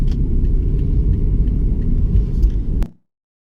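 Old cars passing along a seaside street by a pier carnival in Galveston, Texas, a steady close engine and tire rumble that fills the clip and cuts off sharply near the end.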